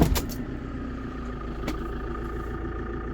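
A van on the road with its engine running steadily, a constant low drone and road rumble throughout, with a brief knock near the start.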